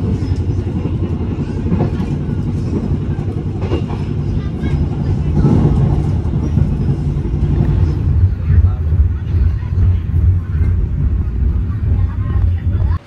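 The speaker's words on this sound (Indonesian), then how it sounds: "kereta api Gumarang telah tiba di stasiun Bojonegoro" Gumarang passenger train pulling into Bojonegoro station, a loud, continuous low rumble of wheels and engine with faint rail clatter that stays steady and close throughout.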